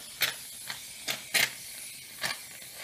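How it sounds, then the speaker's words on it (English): Shaving cream sprays from an aerosol can into a pan in several short hissing bursts separated by brief pauses, quiet and close. "you just dump a bunch of the shaving cream in a pan, enough to coat the eggs"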